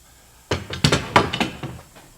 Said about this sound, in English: Let's take the clamps off.